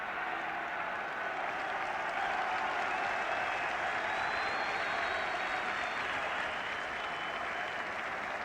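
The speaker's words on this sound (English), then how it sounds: "The cheer is not for the football, it's for a troublemaker, a solitary troublemaker in the crowd" At a 1977 British Home Championship football match between Northern Ireland and England, a large stadium crowd sends up a steady, distant roar of cheering that holds evenly for several seconds.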